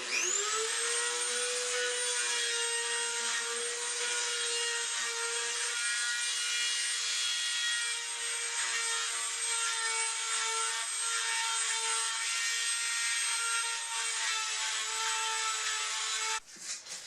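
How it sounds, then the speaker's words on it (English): A Dremel rotary tool with a chamfering bit whines at a high steady pitch as it chamfers holes in a wooden Roubo-style workbench, running continuously and close, then stopping at the end. "I've got a chamfering bit for a Dremel. I'm going to give all the holes a bit of a chamfer."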